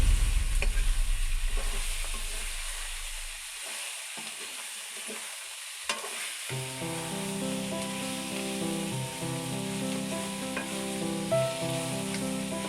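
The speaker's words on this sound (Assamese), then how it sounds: "এয়া মাংসখিনি ৰঙচুৱাকৈ ভাজি থকা হৈছে সিজালৈ।" Chicken meat sizzles and crackles in a hot pan over a wood fire, a low rumble fading early on, then a steady fry with tonal hum layered over it.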